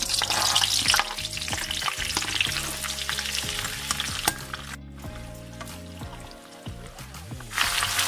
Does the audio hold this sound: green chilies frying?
yes